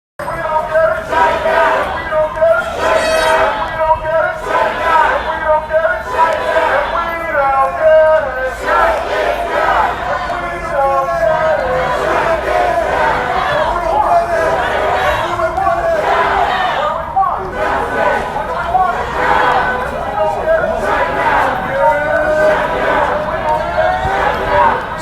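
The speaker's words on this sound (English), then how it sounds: "It's a nice, decent crowd. Maybe about 100, 200 people out here." A crowd of about 100 to 200 Black Lives Matter protesters fills a street in Park Slope, Brooklyn, with loud, continuous chanting and shouting that carries steadily from start to finish.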